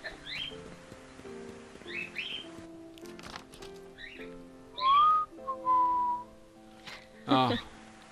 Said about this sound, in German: Ich pfeife auch gleich, du.